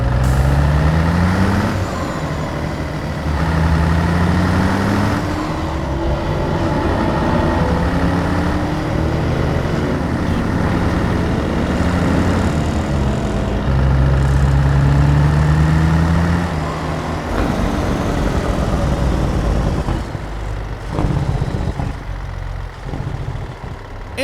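A Zeemods CAT 3406E diesel truck engine in a driving simulation game, heard from outside the cab as a loud, deep rumble. The engine revs and drops through gear changes, with brief air hiss near the end.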